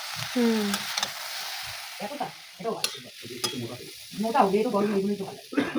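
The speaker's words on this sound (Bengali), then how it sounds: "এই যে আমাদের সবজি ভাজাভুজি চলছে" Vegetables fry in butter mixed with white oil in a kadai for a picnic white sauce pasta. A close sizzle is broken by bursts of stirring and scraping, and voices can be heard intermittently beneath it.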